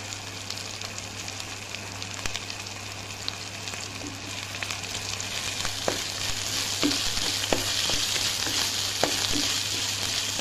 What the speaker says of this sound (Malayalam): നല്ലവണ്ണം ഒന്ന് വഴറ്റിയെടുക്കാം